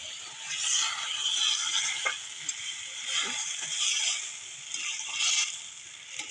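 Water poured into a hot pan of frying potato and cauliflower sets off a loud, steady hiss and sizzle that swells and eases in waves, close up with no voices.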